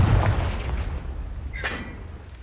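A Confringo blasting spell in Hogwarts Legacy lands with a heavy, booming blast at the start, then a rumbling tail and a sharper crackling burst about halfway through.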